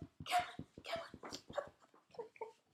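A dog close by barks and yips in quick succession, with whiny whimpers between the barks, fairly quiet overall.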